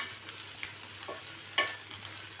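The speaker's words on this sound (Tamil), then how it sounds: "மசாலாலாம் போட்டு நல்லா ஒன்று சேர கிளறி விட்டுக்கலாம்." Potato fry with masala being stirred in a pan over medium heat, giving a low continuous sizzle with a few scraping spoon strokes and one sharper clink near the middle, close and quiet with no talking.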